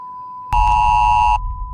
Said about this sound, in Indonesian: diikuti juga dengan HP pemuda itu yang berbunyi tanda dalam keadaan darurat